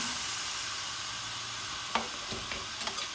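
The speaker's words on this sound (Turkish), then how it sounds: "unumuz rengi değişene kadar kavuracağım arkadaşlar" Flour roasts in a pan for hünkar beğendi as it is stirred, a soft, even sizzle and hiss running throughout, with a few light scrapes and utensil taps near the end.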